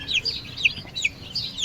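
Sonali chickens scratching and playing on bare ground give off soft, repeated clucks and chirps in short bursts, fairly close, over low background rumble.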